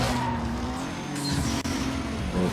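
Car engine revving with tire squeal while drifting through a turn in the racing video game Need for Speed Most Wanted, loud and continuous with a rising engine note.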